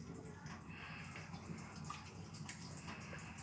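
A water tap runs during handwashing, a faint, steady splash and trickle of water with a few soft drips, heard quietly without voices.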